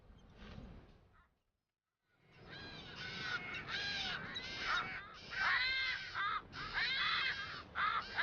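A striated caracara at the edge of a seabird colony in the South Atlantic gives a run of harsh, repeated raspy calls, near and loud, after a short silence.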